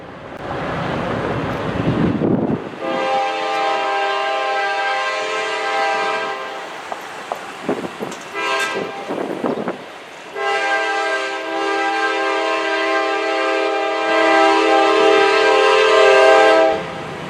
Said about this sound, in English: Our final train of the day will be the Kansas City Southern Sand train that we saw earlier heading northeast on the Fort Worth and Western